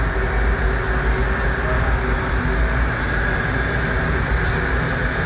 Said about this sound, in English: Now that roaring sound you can hear is the dust collection.